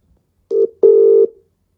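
Telephone tones sound during a call: a short electronic beep followed by a longer steady tone, both loud and clear against near silence.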